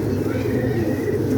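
Pigeon cooing, a steady low murmur that runs unbroken and fairly close, a female bird held in the hand on a rooftop pigeon-keeping setup, with faint voices in the background.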